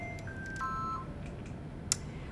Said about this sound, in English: I'm going to dial in the extension number